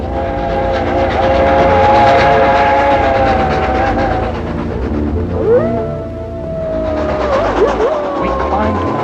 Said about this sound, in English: our train as it thundered through quiet wilderness